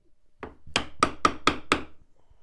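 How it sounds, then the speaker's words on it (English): A chisel wider than the board is struck across it with a mallet while cutting dovetails, giving a row of five or six sharp, evenly spaced wooden knocks, close and crisp. "So I'm using a chisel that's wider than the board, so I got it all the way across"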